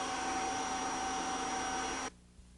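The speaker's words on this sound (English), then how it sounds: "Attach the wall and ceiling brush to the end of an extension tube to vacuum walls, ceilings, drapes, and other surfaces." A Kirby Generation 3 upright vacuum cleaner with the wall and ceiling brush on an extension tube, droning steadily with a high whine for about two seconds before the motor noise abruptly drops away.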